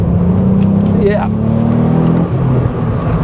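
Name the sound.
VW Up GTI engine revving toward the rev limiter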